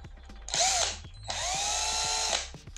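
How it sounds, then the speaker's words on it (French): A cordless drill/driver spins in two bursts to close its chuck, a short whir followed by a longer steady high-pitched run with faint clicking, loud and close with no talking. "On vient fermer le mandrin."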